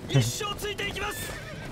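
A horse neighs near the start in an Attack on Titan video game, followed by a brief clip-clop of hooves, with talk and game sounds layered over it.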